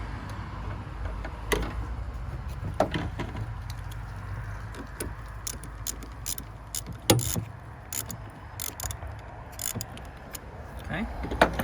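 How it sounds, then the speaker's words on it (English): Negative battery terminal being worked off a 2020 GMC Sierra Denali, with scattered metallic clicks, taps and tool knocks close by over a low steady hum, while someone talks intermittently. "so now let's just take the terminal off of the negative side of the battery"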